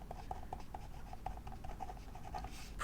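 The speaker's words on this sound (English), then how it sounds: "So I'm just going to write prioritizing" A pen writes by hand in a bullet journal, giving quiet, close scratchy strokes in a steady run of short bursts, with no talking.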